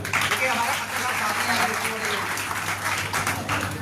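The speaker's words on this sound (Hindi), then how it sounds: "जोरदार तालियां बजाएं।" Applause from the audience at a press club event attended by Haryana ministers, a steady, dense wash of clapping filling the room throughout with some voices mixed in.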